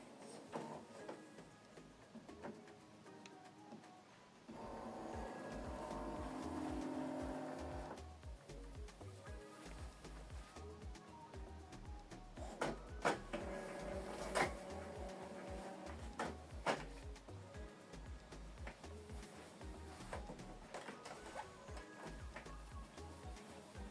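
An Epson ET-4800 ink tank printer whirs and clicks while preparing during initial setup, with mechanical ticks, a louder motor run partway through and intermittent clatter, all fairly quiet.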